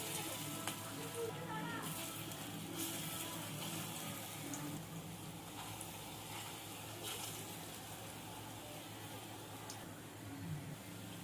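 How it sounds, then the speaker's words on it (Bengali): Lentil-paste fritters with raw banana frying in hot oil, a fairly quiet, continuous crackling sizzle with a few louder bursts as pieces settle, and no one speaking. "বড়াগুলো ভেজে নেব।"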